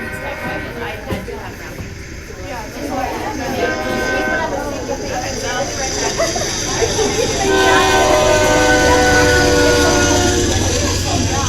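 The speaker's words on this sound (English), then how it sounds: "There's a train coming, check it out." A BNSF freight train hauling autorack cars passes at close range, its steady rumble and clatter growing louder over the final seconds. Sustained horn-like tones come in near the end, and people talk faintly in the background.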